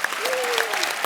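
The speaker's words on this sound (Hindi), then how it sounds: "उसके लिए तालियां." Studio audience applause on a television comedy talk show, a steady dense wash of clapping filling the whole moment without pause.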